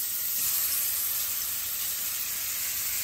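Remora fillets sizzle steadily in a hot pan, a continuous bright hissing fry with a soft low bubbling underneath and no speech.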